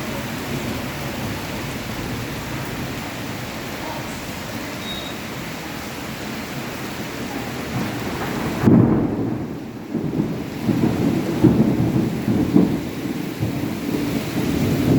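Heavy rain pours steadily over flooded roads in Hyderabad, a dense, constant roar with deep rolls of thunder breaking through loudly in the second half.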